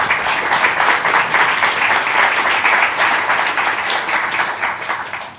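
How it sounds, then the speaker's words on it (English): Audience at a climate and development finance panel event applauds steadily, a dense even wash of clapping that holds for several seconds before fading. "A round of applause for all of them."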